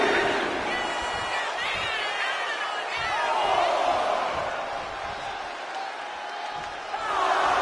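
Arena crowd in WWE 2K26 cheering and whooping for AJ Lee during a live event match, a steady roar of many voices with rising yells and whistles, moderately distant and continuous.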